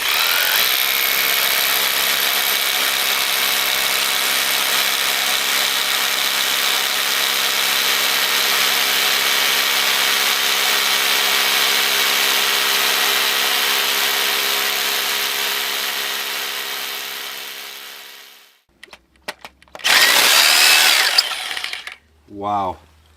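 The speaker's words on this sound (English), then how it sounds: "3 minutes to drill that hole" A power drill bores a post hole beside a cabin in winter, a steady loud motorized drone running for most of the stretch before cutting off, followed by a few short bursts of clatter and rustling.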